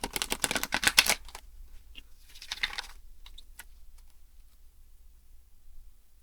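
A tarot card deck being shuffled by hand, a quick burst of crisp, rapid card flutters up close, then quieter intermittent riffles and taps fading into near silence.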